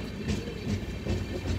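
A passenger train rolls along the tracks at night with a steady, fairly loud rumble and rhythmic wheel clatter that pulses every half second or so, heard from inside a carriage.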